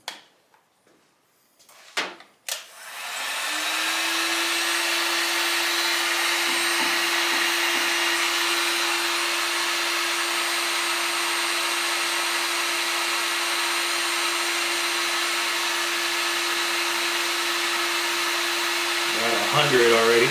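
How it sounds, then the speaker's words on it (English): A heat gun blows hot air steadily onto the fan controller of a 1977 Camaro Z28, a loud continuous whooshing drone with a faint tonal whine, starting after a few short clicks and handling knocks and running nearly to the end. "Let's put some heat on it and see if the fans turn on."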